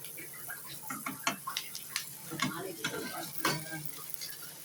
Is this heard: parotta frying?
yes